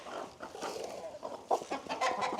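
Backyard chickens cluck in a quick, busy chorus at close range, the calls overlapping in short bursts with no speech.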